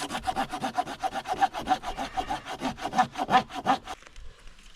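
A hand saw cuts through wood at a winter campsite in an Alaskan rainforest. Close, steady back-and-forth strokes come at a quick, even pace, about a dozen in all, with no talking, and then the sawing stops.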